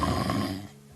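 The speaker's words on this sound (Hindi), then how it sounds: "गुफा से आती खर्राटों की तेज आवाजें सुनी।" Loud, rough snore from a big bear sleeping in a cave in a cartoon story, one short rasping breath that fades out within a second.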